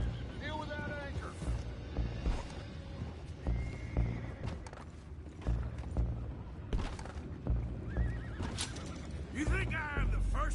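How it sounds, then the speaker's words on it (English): Horses in Red Dead Redemption 2 whinny and neigh repeatedly, shrill and close, over clip-clopping hooves and thuds, with a busy game soundscape and voices talking in the background. "Boys, go find out about those horses down below."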